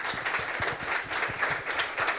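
Conference audience in Dubai applauds, a dense, even patter of many hands clapping at moderate loudness from across the room, with no voices.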